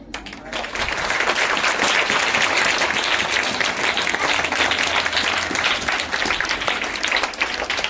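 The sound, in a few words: applause at a flag hoisting ceremony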